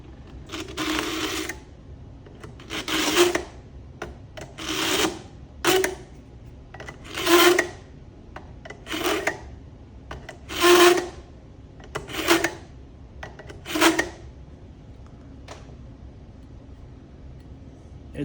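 A fillet knife drawn through the 15-degree carbide blades of a sharpener, about nine distinct rasping scrapes spaced a second or two apart, close and fairly loud against a quiet background.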